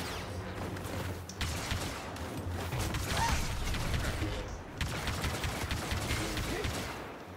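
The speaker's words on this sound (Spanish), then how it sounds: "Estoy mirando que hay disparos, hijo de perra." Blaster fire rattles in short bursts through a Star Wars video game battle, with dense mechanical clatter and crackle that swells and drops over several seconds.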